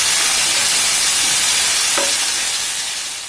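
Ginger garlic paste with curry leaves and mint sizzles loudly in a hot pan as it is stirred, a dense continuous hiss and crackle close up that fades slightly at the end, with no voices.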